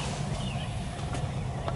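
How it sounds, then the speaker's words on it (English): Wild turkey gobbling in the predawn dark during a youth hunt in Ohio on a 30-degree morning, faint and distant over a steady low hiss, with no talk. "We got three gobblers. Two out in front of us gobbling."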